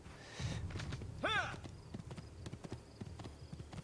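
Hoofbeats of a ridden horse in Assassin's Creed 2, a steady clip-clop rhythm close by, with a short whinny early on and someone speaking German over the hooves.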